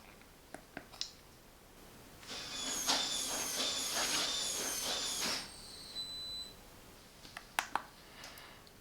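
A SwitchBot smart lock on a main door works through a motorized whir and a burst of mechanical clicking, followed by a short electronic beep and a few sharp clicks, quiet and close.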